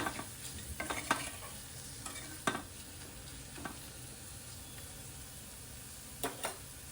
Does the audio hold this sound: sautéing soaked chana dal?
yes